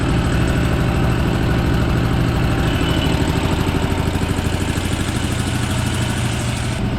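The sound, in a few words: old air compressor running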